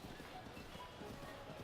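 Horse hooves gallop in a quick, even clip-clop rhythm in Breath of the Wild, quiet and steady, with a faint game ambience underneath.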